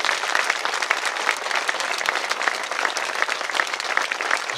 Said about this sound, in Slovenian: pa in zdaj pa res en velik aplavz.